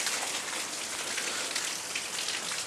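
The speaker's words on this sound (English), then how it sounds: "Well, guys, it's a shitty day outside. It's raining." Steady rain falls outside, a bright even hiss of drops striking surfaces, constant and fairly close with no speech or other sounds.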